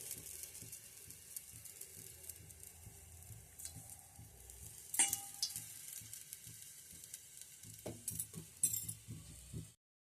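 Aloo cutlets shaped from mashed potato sizzle steadily in hot oil, a soft continuous frying hiss with occasional clinks of a utensil against the pan, moderately close and without talk.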